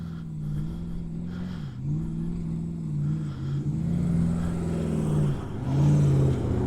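A 4WD vehicle climbs a desert sand dune in second gear, its engine droning steadily and rising in pitch as it labours and revs harder near the top, heard close and alone.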